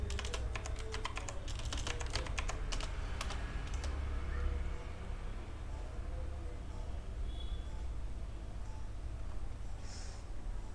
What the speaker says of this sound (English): We do that by typing in contract followed by the name of the contract.